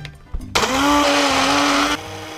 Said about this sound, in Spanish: añadimos los trozos de coliflor a una procesadora de alimentos o a una licuadora, o simplemente usamos una batidora